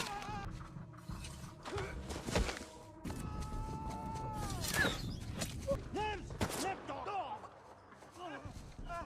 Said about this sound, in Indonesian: orang yang menembak Kwan memutuskan untuk berhenti mengejarnya